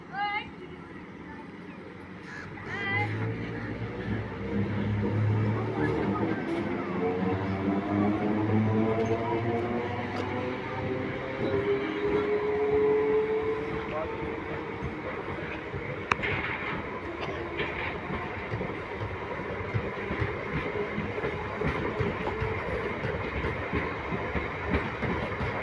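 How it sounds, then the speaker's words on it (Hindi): Vande Bharat Express, an eight-coach train, pulling out of Kurali railway station after a one-minute stop, a steady rolling rumble with wheel and rail noise building as it moves off, a voice talking over it throughout. "एक मिनट स्टॉप करने के बाद ये ट्रेन निकल रही है अपने नेक्स्ट डेस्टिनेशन मोरिंडा के लिए"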